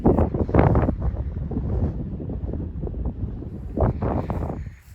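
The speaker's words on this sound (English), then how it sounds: "Hopefully you can't hear the wind too much because it's blowing a gale." A gale blows across open winter fields, buffeting the microphone in heavy, irregular low gusts that rise and fall throughout, loud and close.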